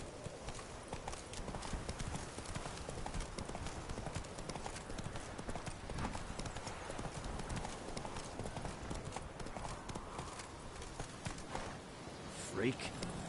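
Rapid, rhythmic hoofbeats of the horse Roach clip-clopping at a gallop in The Witcher 3, close and steady throughout, with faint voices and game ambience mixed underneath.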